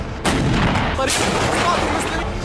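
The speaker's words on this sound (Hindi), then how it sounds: "हारेम में इतने जोरदार धमाके हुए कि पूरा शहर दहल उठा" Loud, continuous rumbling blasts from a bombing raid by fighter jets on a rebel-held town in Syria, forming a dense, sustained roar of explosions with no pauses across the whole stretch.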